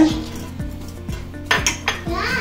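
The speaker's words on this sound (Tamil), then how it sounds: "இப்போ நம்ம இந்த பீர்க்கங்காய் வந்து இந்த கடாயில் போட்டுக்கணும்." Ridge gourd, onion and green chillies tipped into a metal kadai, a run of clanking pot-and-utensil knocks in a steady rhythm, then a couple of louder clattering hits near the end.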